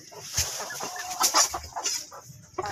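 Cemani chickens cluck in a series of short, irregular calls, fairly close and moderately loud, with a faint rooster-like call mixed in on a poultry farm.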